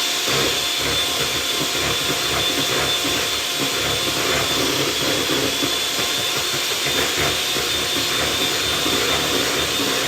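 Electric whisk beating egg whites, egg yolks and sugar for a chocolate log, a steady, loud whirring drone that runs unbroken throughout with no talk.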